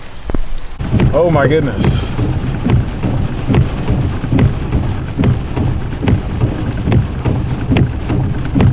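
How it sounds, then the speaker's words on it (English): Heavy, steady rain with thunder rumbling through it, loud and continuous throughout, with a pressure washing worker exclaiming briefly near the start. "I know it's rainy as hell, so maybe you guys can hear me, maybe you guys can't."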